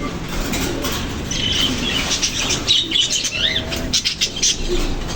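Parakeets and lovebirds in a cage give bright chirps and squeaky calls over repeated bursts of wing flapping and fluttering, close and fairly loud, with occasional rustling against the cage.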